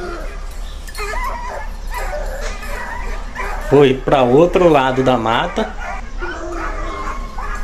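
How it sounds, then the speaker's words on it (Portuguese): Dogs chasing a feral hog through Brazilian woodland bark, yip and whine in a sudden loud burst midway, with someone talking over the scene before and after. "E os cachorros tá na cola."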